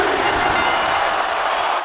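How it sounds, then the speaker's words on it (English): Crowd cheering from a WWE 2K24 wrestling match at a Payback event erupts as a pinfall cover goes on, a dense, loud, continuous roar of an arena audience with no gaps. "The crowd erupts as Perez covers Ripley."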